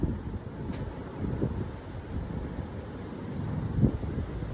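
Wind blows outdoors in a steady, low rushing roar buffeting the microphone, swelling slightly toward the end with occasional gusty thumps.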